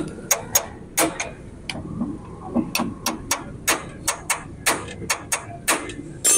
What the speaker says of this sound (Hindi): पहले टी हैंडल और हथौड़ी की मदद से इनको पहले नरम करना है, खोलने में आसानी होगी,